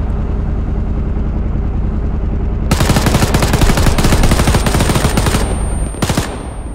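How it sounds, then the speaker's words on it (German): Machine gun fire in the Arma 3 war game: a tank engine drones steadily, then a loud, rapid burst of automatic fire rattles continuously for several seconds, breaking off and resuming briefly. "Halt doch mal mit dem MG nochmal rein."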